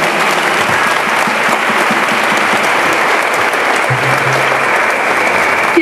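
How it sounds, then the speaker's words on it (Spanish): A farewell gathering for a parish priest fills with strong, sustained audience applause: a loud, even wash of clapping that carries on without a break. "A ver ese aplauso bien, pero bien fuerte para el Padre Semei."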